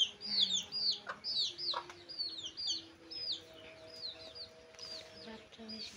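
Hens cluck in a rural yard where chickens and goats roam together, with a dense chorus of high chirping calls over low, intermittent clucks at close range and no voices.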